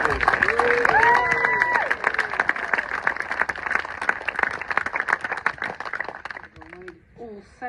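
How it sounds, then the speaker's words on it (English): Crowd applause and cheering at a medal celebration in Suffolk, a dense, sustained clapping with whoops and a rising voice over the first seconds, fading out near the end as a voice speaks. "Give me a big cheer around the applause."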